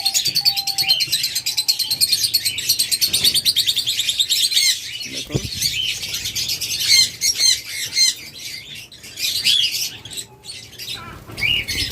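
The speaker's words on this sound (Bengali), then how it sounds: "কেস সেট আপে ডায়মন্ড ঘুঘু রয়েছে কলোনি সেট আপে ডায়মন্ড ঘুঘু" Diamond doves kept in a colony setup chirp and call continuously, a dense chorus of high tweets and squawks close by, with occasional soft thumps and faint background noise.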